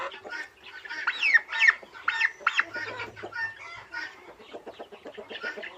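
Domestic turkeys, a tom and hen kept at home, give a busy run of clucks and short chirping calls, close by and fairly loud, overlapping and uneven in rhythm, with no one speaking.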